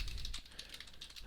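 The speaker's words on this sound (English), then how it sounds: "This can be done by typing in public bank account" Computer keyboard typing: a quick, irregular run of light key clicks, quiet and close, with no talking.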